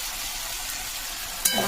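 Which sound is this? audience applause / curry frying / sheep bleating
curry frying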